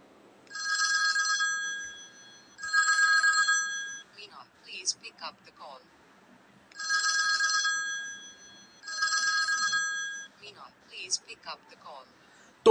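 A Meena name ringtone song plays from a phone, with short repeated tonal phrases in bursts separated by gaps filled with quieter vocal and musical fragments, fairly loud and clear with no talking over it.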